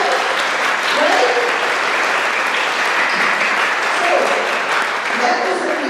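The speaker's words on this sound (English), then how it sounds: "So round of applause for you guys, right?" A room of people at a fifth grade graduation applauds steadily for several seconds, a dense even wash of clapping with a few voices calling out beneath it.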